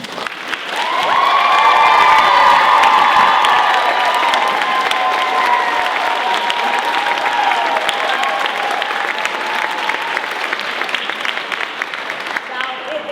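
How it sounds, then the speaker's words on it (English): A theater audience at a school drama closing night breaks into loud, sustained applause mixed with cheering and whoops, filling the room steadily for over ten seconds. "please stand and let's all give them a round of applause"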